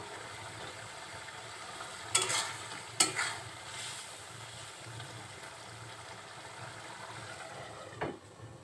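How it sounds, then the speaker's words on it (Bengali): Shrimp cooked with spices in a pan: a faint, continuous low sizzle of frying with a few sharp utensil scrapes and clicks from stirring, with no voices. "সবগুলো মশলা দেওয়ার পরে একটু ভালোভাবে নাড়াচাড়া করে কিছুক্ষণ ঢেকে রান্না করব।"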